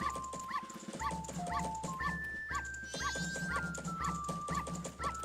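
A dog in Zelda: Majora's Mask barks in rhythm with cheerful game music, giving a string of quick, evenly spaced yips that track the melody throughout.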